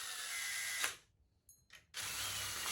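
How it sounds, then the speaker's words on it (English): A power screwdriver whirs as it drives screws into the engine covers of a Honda ST1100 Pan European motorcycle during reassembly, loud and close, in two bursts separated by a short quiet gap. "When there's a lot of screws to tighten, it's so much easier with an electric screwdriver."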